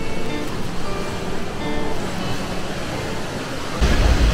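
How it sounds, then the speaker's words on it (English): The La Paz waterfall on the road to La Fortuna, Costa Rica, roars as a steady loud broadband rush of falling water, with a low rumble swelling near the end. "we saw this beautiful waterfall, La Paz"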